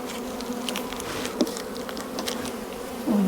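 Honeybees hum steadily on a brood frame lifted from a hive, a close, continuous buzzing swarm with a few individual bees passing nearer.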